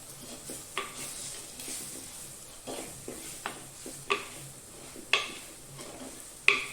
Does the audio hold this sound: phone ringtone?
no